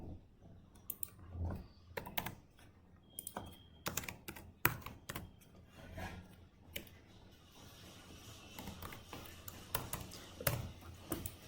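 Computer keyboard typing comes in irregular bursts of sharp clicks and keystrokes, close and fairly quiet, with short pauses between runs of keys and a soft background hiss.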